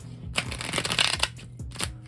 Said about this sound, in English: I'm going to shuffle and actually pick 4 options.